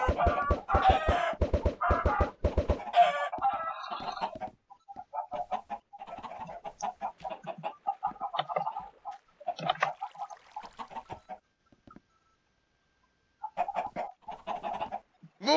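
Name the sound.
chickens clucking and crowing in a video game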